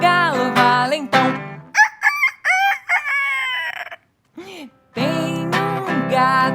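A rooster crows loudly and close by, several drawn-out calls in a row with a short pause before the last burst.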